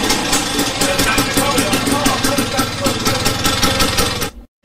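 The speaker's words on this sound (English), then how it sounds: "This is his engine I'm just having a play with, checking port times and stuff" A Lambretta scooter engine runs steadily in a workshop, a loud, dense, continuous buzzing drone with fast rhythmic pulsing that holds for about four seconds before cutting out abruptly.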